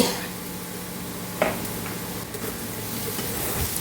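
A spoon stirs an Onam curry frying in a pan with turmeric and salt, giving a steady close sizzle with a scrape near the middle. There is no talking.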